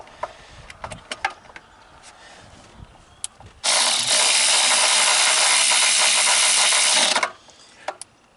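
A battery-operated impact tool tightens fuel injector bolts on a flex-fuel LS engine, one loud steady whirring burst of about three and a half seconds after scattered quiet clicks and handling noises.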